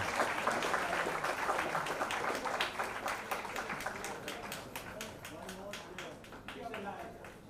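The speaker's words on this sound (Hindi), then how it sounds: "तो तालियां भी उतनी जोरदार होनी चाहिए" Loud, sustained applause from a large crowd at a big annual stage event in India, dense clapping that thins slightly and continues without pause, with no one speaking over it.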